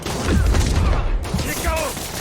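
Bursts of gunfire from an animated Spider-Man episode dubbed in French ring out over excited shouting voices, a dense, crackling volley lasting a couple of seconds.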